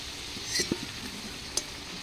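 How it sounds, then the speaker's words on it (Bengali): Potato pieces fry in a pan over a clay stove until reddish, for a meat curry: a soft, steady sizzle with a few faint stirring clicks and taps, close but quiet, with no voices. "আলুগুলো লাল লাল করে ভেজে নিয়েছি আলু ভাজা হয়ে গেছে"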